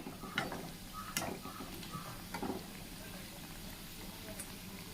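Wheat flour spinach samosas sizzle gently in hot oil, a soft steady bubbling with a few light ticks and clinks as they are turned, fairly quiet and close.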